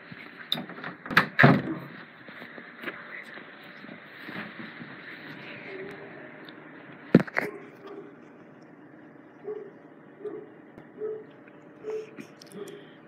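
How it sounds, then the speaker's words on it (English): A bedroom door swings shut with a sharp clunk, followed moments later by a second distinct click of the lock, with quiet shuffling and faint rustling in a room between and after. "I'm gonna lock my door"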